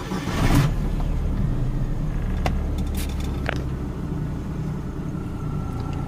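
A 2018 United Bravo's 800cc inline three-cylinder EFI engine cranks and catches close by, then settles into a steady, low idle rumble.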